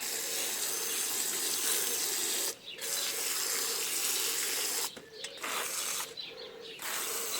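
Water runs steadily from a garden hose in a vegetable garden, a continuous close hiss broken by a few brief pauses and small mechanical clicks.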